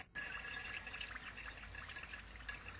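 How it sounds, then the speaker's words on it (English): An AEF 801 dual-flush automatic urinal flushes on its own, starting abruptly in a steady rushing gush of water that runs on evenly, close and fairly loud, with no talking. "When the user walks away, the urinal will automatically flush."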